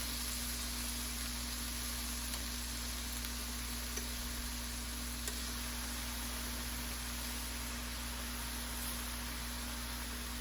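Turkey kababs sizzle in a frying pan, a steady broadband hiss with a constant low hum running through it and no voices.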